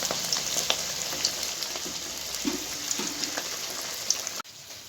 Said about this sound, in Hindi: जैसे घी गर्म हो जाएगा, फ़िश हम इस तरीके से इसमें फ्राई करेंगे